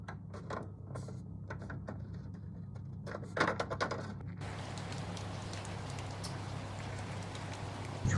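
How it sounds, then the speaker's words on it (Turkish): Steady rain hisses and patters on a surface, with a few brief knocks and rustles early on and a low constant hum underneath. "Yağmur yağıyor."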